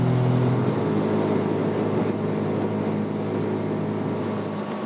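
A motorboat speeds across the Yenisei river with a loud, steady engine roar and hull-and-water rush that stays close and constant throughout, with no talk.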